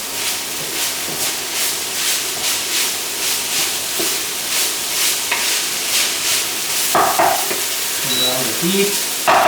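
Meat frying in a pan for Turkish pide gives a steady, close sizzle with stirring scrapes throughout, a few clinks of utensils near the end.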